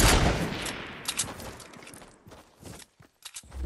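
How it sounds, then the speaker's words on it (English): Gunshots in Fortnite, a loud broadband crack at the start followed by several more scattered sharp shots and rustling movement over a few seconds, no speech. "Somebody else took a shot at us."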